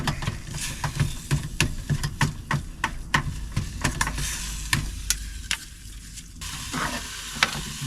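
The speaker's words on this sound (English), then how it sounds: "So while that's sizzling away" Chilli con carne ingredients sizzle steadily in a pan while a utensil scrapes and stirs in a quick, repeated rhythm, close and clear.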